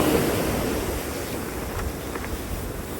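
Steady broadband wash of sea waves rolling onto a beach, with some wind over the microphone, continuous and moderately loud throughout, with no talking.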